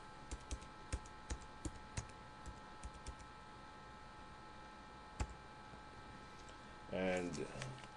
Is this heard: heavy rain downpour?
no